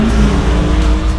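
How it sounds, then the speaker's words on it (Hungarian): A Porsche 911 Carrera GTS Cabriolet's 3.0-litre twin-turbo flat-six, 450 hp, roars steadily at high revs, loud and close, with a deep rumbling growl throughout. "Nagy motorja van, és ezt hallani is."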